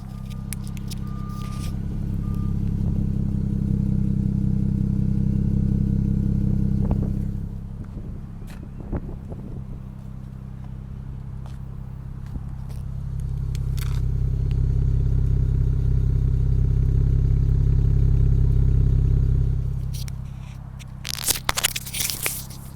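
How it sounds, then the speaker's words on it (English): A 2007 BMW 335i idles steadily at its dual rear exhaust pipes, a continuous low engine rumble that holds for most of the stretch, dips briefly and swells again before a few sharp clicks near the end. "We can check the dual exhaust pipes for how they sound."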